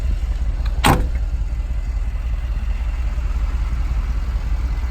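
Power window on a Mercedes G63 AMG sliding down in one brief whir, heard close over a steady low engine idle.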